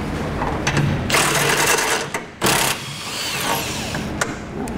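Power tool whirring in bursts while bolts come out of the frame of a 2015 Chevrolet Silverado pickup during a Curt trailer hitch install, with two louder surges over steady mechanical noise nearby.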